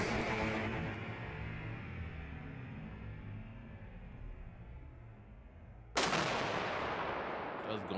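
Naval railgun firing a projectile at Mach 6, a sudden loud broadband crack near the end that follows a long, fading rumble of an earlier shot.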